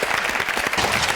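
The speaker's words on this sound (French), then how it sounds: "On les applaudit, hein." A French television studio audience claps together in a dense, even burst of applause that fills the short moment, fairly loud and unbroken.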